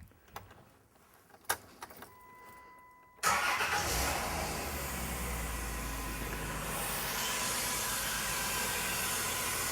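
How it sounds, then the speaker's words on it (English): A car engine cranks and catches after a few quiet clicks and knocks, then settles into a steady, fairly loud idle with a faint hiss above it that runs to the end, with no one speaking. "Now the next step is to start the engine"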